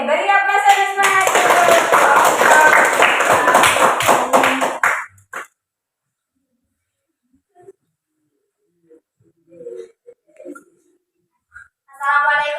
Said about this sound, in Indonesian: Oke, beri aplaus dan semangat.